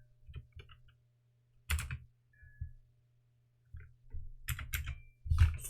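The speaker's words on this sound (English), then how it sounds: "How do you type this?" Short bursts of clicky computer keyboard typing come in a few separate clusters broken by silent pauses, close and fairly quiet, with no talking.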